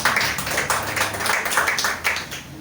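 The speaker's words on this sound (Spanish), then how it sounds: "Dale un aplauso al Señor." A church congregation claps together in a steady, loud, rhythmic beat, many hands filling the room evenly with no voices on top.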